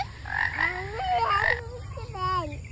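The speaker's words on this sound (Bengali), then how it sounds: "ব্যাং হচ্ছে ব্যাং" Frogs in a jungle croak close by in a series of rising, stretched calls, fairly faint but clear over a steady low background hum.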